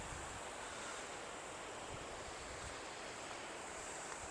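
Ocean surf washing steadily onto a rocky, slippery shore near Karachi, a continuous broadband roar of breaking waves with wind buffeting the microphone throughout, no voices.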